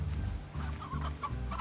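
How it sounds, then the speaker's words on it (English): Chickens clucking in the Slime Rancher video game, a steady run of short clucks layered over a low droning game soundtrack, with no talking. "Okay, I think there are chickens this way."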